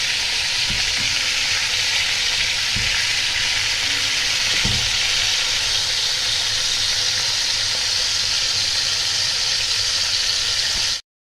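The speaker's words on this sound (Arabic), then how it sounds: "اهي اللحمه بتاعتنا اتشوحت خالص." Meat sears in a hot pan for a home-cooked oven meat tray, giving a loud, steady sizzling hiss with a few soft knocks of stirring, close up and with no talking.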